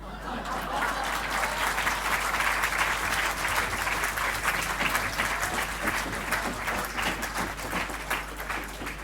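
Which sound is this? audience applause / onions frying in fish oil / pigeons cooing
audience applause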